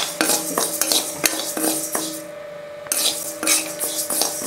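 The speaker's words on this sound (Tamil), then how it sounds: "பாசி பருப்பை லேசாக வறுத்தா போதும்" A metal spoon stirs moong dal as it dry roasts in a pan, scraping and clinking against the metal in a quick, irregular rhythm that continues with a brief pause, close and fairly loud.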